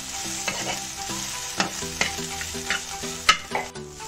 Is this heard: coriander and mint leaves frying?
yes